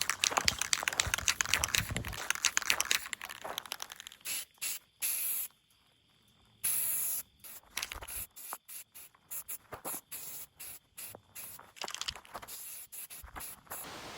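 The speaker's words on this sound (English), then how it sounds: "I'm going to use this Rust-Oleum paint" Rust-Oleum spray paint hisses onto a plastic camera and adapter in repeated short and long bursts, with brief pauses and one longer silence between passes, close and fairly loud.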